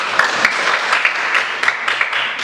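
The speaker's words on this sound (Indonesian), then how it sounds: "Berikan aplaus untuk kami." A classroom audience at a teacher-training presentation claps together in a steady, dense round of applause, moderately loud and close, with a few sharper individual claps standing out and no talking.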